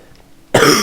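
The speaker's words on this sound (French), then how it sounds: "Je vais tousser pendant toute la vidéo si ça continue." A single sharp, loud cough bursts out close to the microphone after a moment of near silence.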